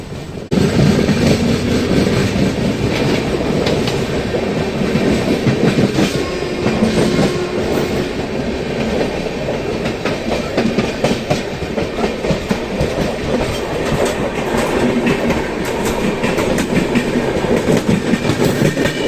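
A train running very close alongside, a loud continuous roar of wheels with rhythmic clickety-clack and steady rumble throughout, no voices.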